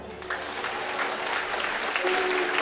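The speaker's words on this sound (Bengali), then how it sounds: "কি হাততালি হবে না?" A hall full of schoolgirls and guests at a girls' high school silver jubilee celebration breaks into loud, steady applause, continuous clapping filling the room for a few seconds.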